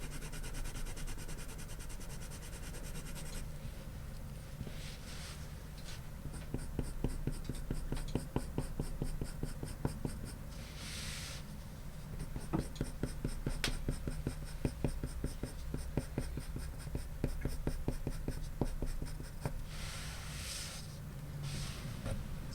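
Colored pencil shades across drawing paper in burnt umber, a continuous dry scratchy rasp of rapid back-and-forth strokes close up, with brief pauses between passes and no talking.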